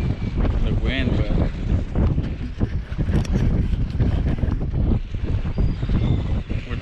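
Wind buffets the microphone on a downtown Corpus Christi fishing jetty, a steady, loud low roar that runs throughout while people talk beneath it.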